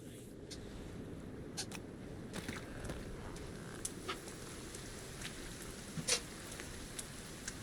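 Steady rain falls in the survival game Sons of the Forest, a soft continuous patter with a few faint scattered clicks and taps, fairly quiet throughout.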